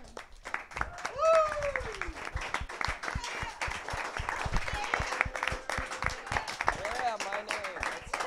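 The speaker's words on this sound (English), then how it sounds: "and they deserve a round of applause." An audience giving a round of applause at a telethon, with scattered clapping throughout and a voice talking over it, fairly faint overall.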